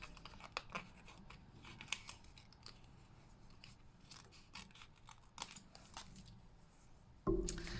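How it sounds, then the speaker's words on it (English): Scissors snip repeatedly in quick, irregular cuts through stiff card for a papercraft card, close by, ending with a dull thud. "I'm going to use my scissors to go right up to the edge"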